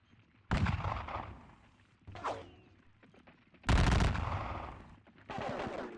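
Musket volleys crackle in the Napoleonic-era battle game WDS Napoleonic, Leipzig campaign: four separate ragged bursts of massed gunfire over a few seconds, each a dense rattle that quickly tails off.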